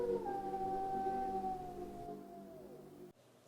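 A human voice imitates a wolf's howl, holding one long, loud tone that slowly slides downward before fading away, with no other sounds around it.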